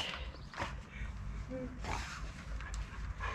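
A white dog pants and whimpers softly nearby on a cold, foggy October morning, with faint creaks and some quiet voices in the background.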